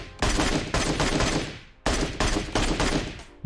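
Loud gunfire from PUBG Mobile comes in two long rapid automatic bursts, close and punchy, separated by a short pause, with a third burst just starting at the end.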